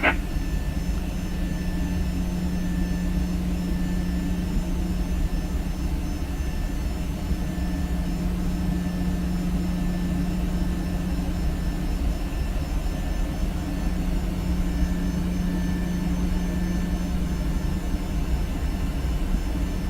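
Simulated airliner in X-Plane being pushed back by a tow tug, a steady loud jet-engine drone with constant tonal hums running continuously with no talk.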